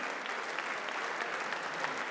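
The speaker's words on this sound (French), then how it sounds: "sous vos applaudissements." Audience applause at an awards evening for business leaders, steady and dense clapping from a full hall throughout, fairly distant and even with no voices over it.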